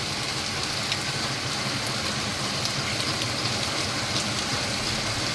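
Heavy rain pours steadily with wind on a second straight day of downpour, a dense, even wash of hiss and patter from nearby with no pauses and no voices.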